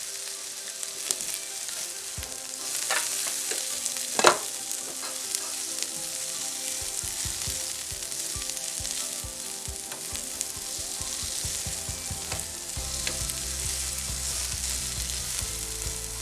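Onions frying in a pan for a curry with stewed tofu, a steady bright sizzle running throughout with occasional clinks and stirring scrapes, no talking.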